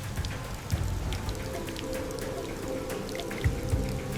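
Heavy rain falls steadily on a forest during a storm, a continuous dense patter with a few louder drips and splashes standing out.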